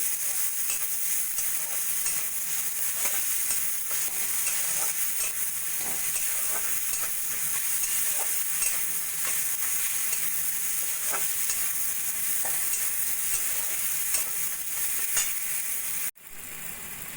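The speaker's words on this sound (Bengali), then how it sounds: "দিয়ে দেবো পরিমাণ মতো নুন হলুদ এবার সব কিছু ভালো করে ভাজা ভাজা করে দেবো" Chopped onion, garlic, tomato and green chilli with salt and turmeric sizzle steadily in oil as a masala for tilapia fish curry, with scattered stirring scrapes throughout and a brief cut near the end; no talking.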